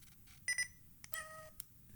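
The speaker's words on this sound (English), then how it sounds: "A cat sound." A Pentax digital camera plays its electronic cat-meow shutter sound: two quick bright chirps, then a longer synthetic meow tone and a final short blip, thin and close over a low hum.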